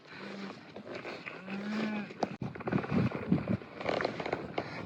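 A herd of pregnant cows being driven on a ranch to their calving field, several low moos from a moderate distance over outdoor ambience and rustling movement.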